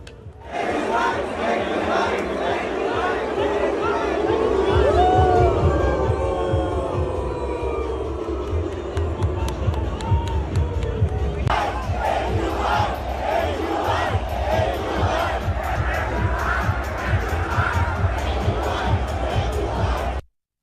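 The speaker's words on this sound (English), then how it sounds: "When Chief Minister Rekha Gupta took to the stage, you had Delhi crowds chanting AQI." A large crowd in Delhi chants together at an event where Chief Minister Rekha Gupta has taken the stage, a dense, sustained roar of many voices with rhythmic shouting that holds steady for about twenty seconds.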